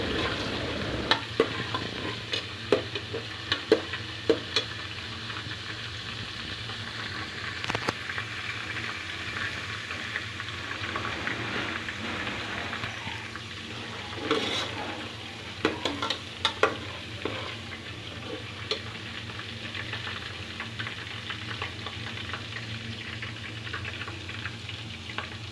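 Mutton pieces with garam masala and spices for a Kashmiri white mutton fry in a pot under a low steady sizzle, punctuated by frequent sharp clinks and scrapes of a ladle stirring, nearby with no talk.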